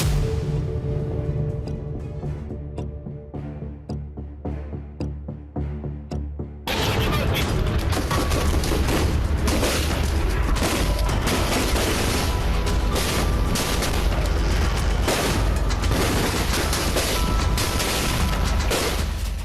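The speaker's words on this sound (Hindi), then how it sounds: "गोलियों और धमाकों का शोर किसी की भी दिल की धड़कनें रोक सकता है।" Gaza war footage opens with a musical build-up, then gives way to a sustained loud wash of rapid gunfire and explosions that continues steadily to the end.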